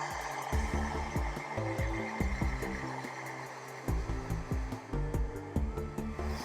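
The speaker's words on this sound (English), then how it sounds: "Now we'll come in, speed things up with our hair dryer." A hair dryer blowing on a painted miniature model to speed drying, a steady close whir with irregular clicks and knocks from handling over it.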